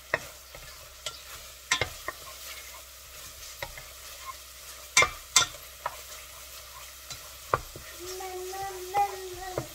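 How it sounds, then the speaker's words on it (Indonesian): Bay leaves, lemongrass, galangal and ginger fry in oil in a pan, a spoon stirring with repeated sharp scrapes and knocks over a steady sizzle, close by. "Kita aduk-aduk lagi."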